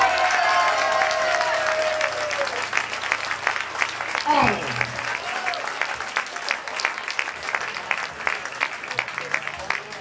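Audience applause for a duo at a live metal concert at an outdoor motorcycle rally in Santorso, Italy; dense clapping and crowd noise fill the whole stretch, with a held guitar tone fading early on.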